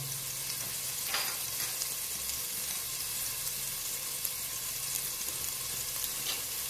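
Chopped fennel sizzles in olive oil in a pan for risotto, a constant close hiss and crackle that stays level from start to finish with no voices.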